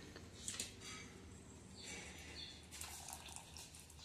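Water drains softly from soft boiled potatoes resting in a mesh strainer, with faint drips and light trickling in a quiet kitchen.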